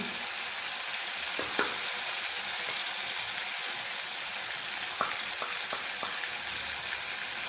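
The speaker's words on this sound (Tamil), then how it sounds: "இப்போது நம்ம இந்த புளியை ஊற்றி புளி போட்டோம்மா." Tamarind water poured into a pan of brinjal kosthu sets off a steady, close sizzle that hisses evenly throughout, with a few faint clicks and pops breaking through.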